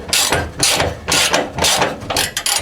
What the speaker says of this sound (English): And grab a ratchet.